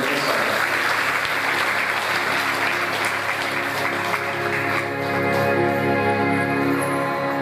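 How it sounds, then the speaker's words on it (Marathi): Loud, sustained applause from an audience at a devotional music event honouring the musicians, including tabla players, a dense continuous clatter of many hands that fills the whole stretch without talk. "एकदा जोरदार टाळ्या वाजवून"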